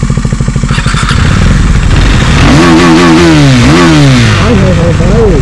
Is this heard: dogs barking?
no